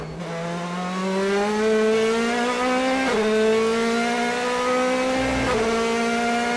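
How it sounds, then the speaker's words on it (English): Onboard a DTM race car at the Eurospeedway in 2011, the engine drones with a steadily rising pitch, and sharp jolts mark the car bouncing over curbs and rumble strips, loud and close throughout. "just hear the sound of those curbs and rumble strips through the car"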